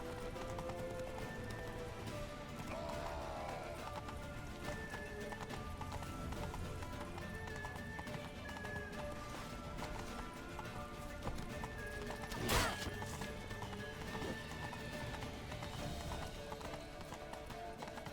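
Horse hooves clip-clop steadily in a fast gallop in The Witcher video game, with game sounds in the background and a sharp bright burst partway through.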